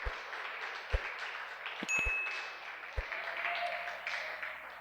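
A church congregation applauds in a soft, steady patter of clapping, with a few low thumps and a brief ringing tone partway through, and no speech over it.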